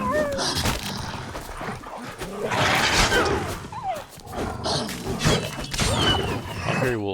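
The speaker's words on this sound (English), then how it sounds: "Hungry wolves." Hungry wolves growl, snarl and whine in The Witcher 3 among dense game sounds, loud and continuous with yelps rising and falling throughout.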